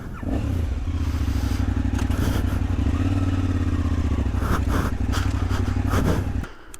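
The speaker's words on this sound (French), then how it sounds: "J'ai été obligé d'allumer la moto." Off-road motorcycle engine idling and running on a trail ride, a steady low throbbing drone with occasional revs and clattering thumps, close and continuous before cutting off near the end.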